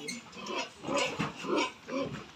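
Fattening pigs on a farm, weighed for sale, give off several grunting squeals in close bursts of uneven rhythm, moderately loud against a faint background.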